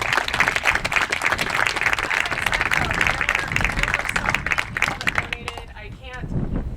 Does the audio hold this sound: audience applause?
yes